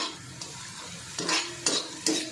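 Green chillies and garlic stir-fried in a pan on a stove: a spatula scrapes and stirs in a few distinct strokes over a low, steady sizzle, close up with no talking.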